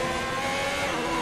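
A steady, loud engine roar from a Formula 1 car in the video game F1 2021, racing in the rain, droning continuously with no talk over it.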